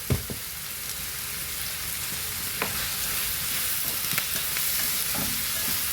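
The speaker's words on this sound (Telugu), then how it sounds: "చూడండి ఎర్రగా వేగాయి ఉల్లిపాయలు" Onions fry in a pan with masala and Mumbai duck fish, giving a steady close sizzle with occasional sharp crackles and spatters and no talk.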